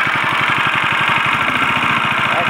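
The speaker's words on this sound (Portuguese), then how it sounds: "eu vou acelerar ele pra ser já potente que esse motor tem." A motor, apparently driving a water pump, runs loud and close with a rapid, evenly pulsing throb as it is revved, a rough, chugging drone heard alone.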